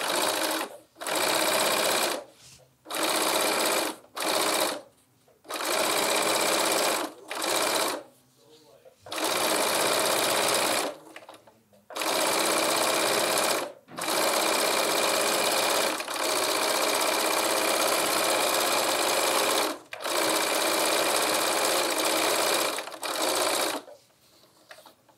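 A sewing machine stitches along a tote bag strap in repeated bursts of steady, loud whirring separated by short pauses, running mostly alone and close.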